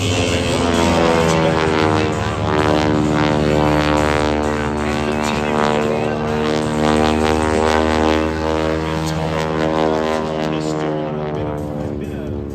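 Stearman biplane performing aerobatic maneuvers at an airshow, its radial engine and propeller a loud, steady droning roar with many stacked harmonics that rises and falls slightly in pitch as it climbs and turns, continuous throughout.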